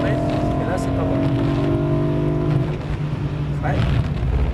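A BMW M3 E92 accelerates on a race track, its engine note rising steadily for a few seconds before easing off, heard from inside the car with a person talking over it.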